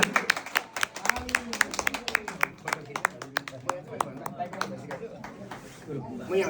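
Sharp, rhythmic hand claps from people at a Swasthani vrata katha gathering in a Durga temple repeat steadily for several seconds, mixed with talking voices.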